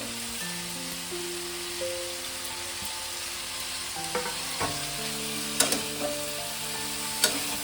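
Lightly fried greens and mussel-like beans stir and sizzle in a pan for a quick Bengali vegetable dish. A soft, constant frying hiss runs throughout, with occasional louder spatula clicks and scrapes near the end.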